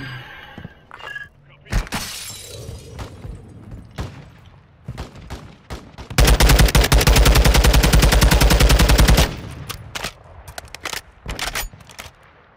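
Gunfire in Call of Duty: Modern Warfare II, with scattered single shots and cracks, then a long sustained burst of rapid automatic fire lasting about three seconds, more shots after it, and players talking over the action.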